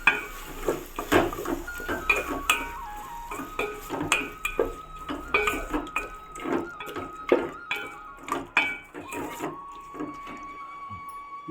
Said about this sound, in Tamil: நல்லா நல்லா இது கிளறணுங்க, நல்லா இது வரணும்.